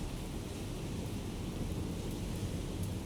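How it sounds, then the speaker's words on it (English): Steady rain with a low thunder rumble over a rough sea state 6 in a naval combat game, a constant dense wash of noise lasting throughout with no speech. "It is raining."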